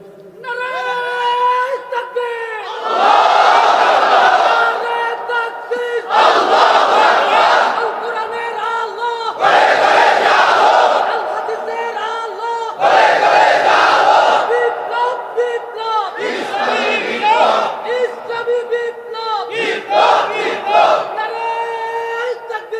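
A crowd at a Bengali Islamic sermon (waz) loudly chants a slogan in repeated call-and-response bursts, roughly six surging group shouts separated by brief lulls.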